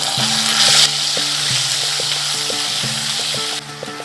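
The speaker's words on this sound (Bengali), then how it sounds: "আদাটা 30 সেকেন্ডের মতন ভেজে নিয়েছি" Ginger paste with salt and tempering spices frying in a pan, a loud continuous close sizzle with intermittent metallic clinks from stirring and a brief louder hiss near the start.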